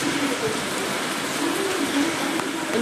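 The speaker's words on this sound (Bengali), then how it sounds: "আর দেখো কি বৃষ্টি নেমেছে না" Heavy rain falling steadily, a dense, even rushing hiss that fills the whole moment without letup.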